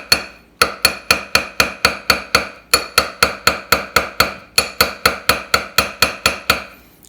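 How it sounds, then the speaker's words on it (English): A hammer lightly taps a metal opal ring in quick, even strokes, each ringing briefly, in three runs separated by short pauses. "So I'm just going to tap it lightly with a hammer."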